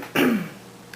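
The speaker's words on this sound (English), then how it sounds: "Sorry, I keep clearing my throat." A single short throat clearing from an adult with allergies, close and fairly loud, a rough guttural rasp lasting under half a second, followed by quiet.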